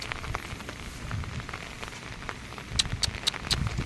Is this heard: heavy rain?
yes